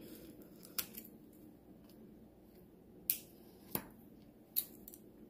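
Scissors snip through dried acrylic pour coasters, giving about half a dozen sharp, close clicks spaced irregularly over a quiet, low background hum.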